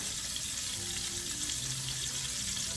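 Garlic frying in a pan for a home salmon and pasta dinner, giving a steady soft sizzle that runs evenly throughout at a fairly quiet level, with no talking.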